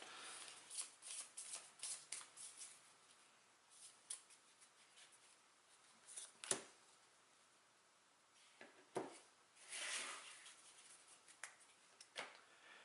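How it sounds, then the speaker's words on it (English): A deck of cards for a Buffy the Vampire Slayer deck-building game is shuffled by hand close up, soft riffling and sliding bursts with sharp taps and snaps of cards squared against a table, in quiet intermittent rounds. "I have to shuffle again"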